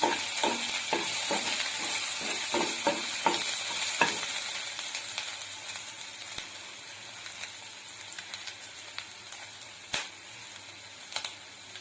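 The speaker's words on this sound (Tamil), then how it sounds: "இஞ்சி பூண்டு நல்லா லைட்டா ஃப்ரை ஆகணும்" Ginger and garlic sizzle in hot oil in a pan, a bright steady hiss with quick scraping stirs at first, easing into a softer sizzle dotted with occasional spatula clicks.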